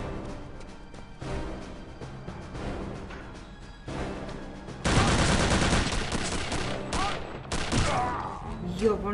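Bursts of rapid gunfire in the video game Wolfenstein, sparse at first and then a loud sustained volley of shots, with a voice talking underneath.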